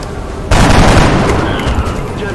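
Gunfire in the XCOM Enemy Within video game: a sudden loud burst of shots that rolls into a sustained, dense crackling roar for about two seconds.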